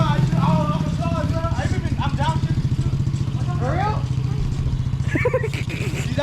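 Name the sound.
pit bike engine revving (Misas LS400)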